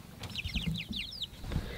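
Chickens clucking near their coop on a chilly, windy day, a close run of quick chirpy clucks and murmurs over a low rumble, brief and fairly soft, with no talk.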